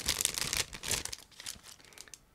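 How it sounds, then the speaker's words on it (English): A plastic bag holding the clear parts frame of a 1/48 scale ICM B-26K Counter Invader model kit is opened up close, with bursts of loud crinkling and tearing that fade toward the end. "we start with a clear frame, which is packed into a separate plastic bag, so I'm going to open it right now"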